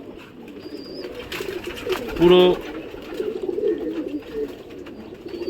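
Pigeons coo low and intermittently in a loft, with a brief burst of louder calling midway and a person talking over them throughout.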